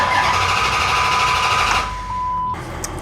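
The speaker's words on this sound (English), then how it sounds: "give her a couple cranks and see if she's still starting" A car engine cranking over with fuel delivery disabled, the starter whirring steadily without catching for about two seconds, then a drop and a brief second whir before stopping, with a thin tone running underneath.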